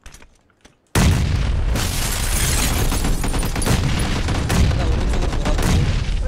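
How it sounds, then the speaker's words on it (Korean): A grenade detonates in a shooter video game: a sudden loud blast after a brief quieter lead-in, then a dense, roaring wall of rumble and crackling debris that holds for several seconds. "수류탄. 수류탄."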